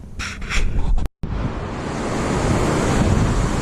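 Ocean waves at the beach on a foggy day, a loud continuous wash of surf with strong wind buffeting the microphone and a brief cut near the start.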